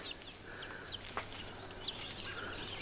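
Month-old chicks and chickens cluck and peep in an outdoor run during a caterpillar feast, scattered short calls at close range over a steady background hum.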